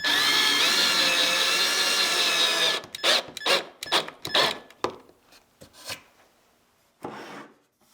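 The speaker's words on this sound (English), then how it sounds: "put a screw in through the bottom of each one" A power drill drives screws up through the half-lap joints of a 2x4 outdoor garden bench, whining loudly and steadily for about three seconds, then gives way to a series of close wooden clunks and knocks.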